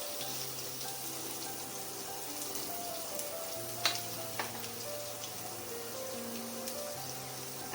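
Asafoetida and crushed garlic sizzle quietly in hot oil, a faint steady fizz with a few small pops and ticks and a low background hum.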